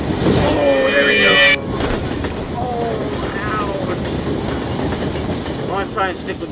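In a game full of nightmare animatronics, a train runs with a steady rolling rumble and clatter, a louder burst at the start, and talking over the noise.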